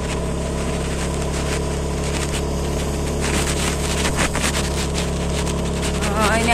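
A motorbike engine labours up a steep mountain road, a steady droning hum with a strained, unchanging pitch, close and continuous, while voices talk faintly over it.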